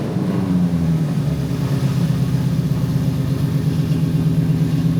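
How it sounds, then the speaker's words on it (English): Coyote V8 swapped into a New Edge Mustang Cobra, running through an X-pipe exhaust with no mufflers: a loud, close, deep throbbing idle with a lumpy pulse and slight revving, alone without talk. "this thing is just ungodly loud coming right off the X-Pipe"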